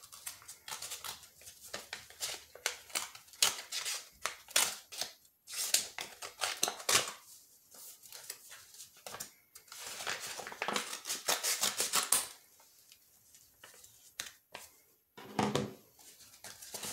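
Scissors snip and paper crinkles while a mail art package is cut open, with irregular bursts of close cutting and rustling that stop and start over several seconds.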